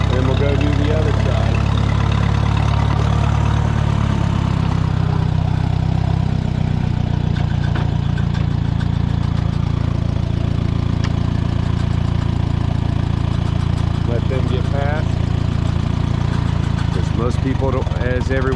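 A Minneapolis Moline tractor engine, G950 or G955, runs continuously with a loud, deep rumble throughout, heard close up while someone talks over it.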